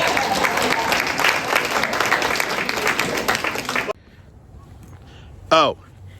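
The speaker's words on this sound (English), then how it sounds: "I thank you for your applause" Audience applause at a talk: a crowd claps loudly and steadily for about four seconds, then stops abruptly, leaving quiet room tone and a brief voice.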